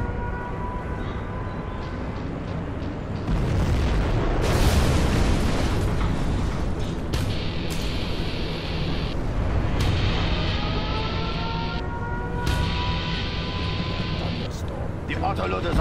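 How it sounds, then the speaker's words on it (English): Nuclear missile launch and detonation in Command & Conquer Generals Zero Hour, a China challenge battle: a swelling roar builds into a heavy rumbling blast near the middle, sustained over a dense battle din with scattered later impacts and a voice speaking at times. "We have launched our nuclear missile."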